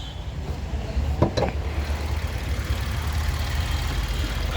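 Warm Maruti Suzuki Swift VXI 1.2 litre petrol engine idling, a low, steady, quiet hum under constant broadband noise, with a brief rattle near the start and no voices.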